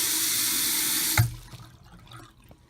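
A hotel bathroom sink faucet at Disney's All-Star Sports Resort pours a steady, close stream of water. It shuts off partway through with a small clunk, and faint drips and room quiet follow.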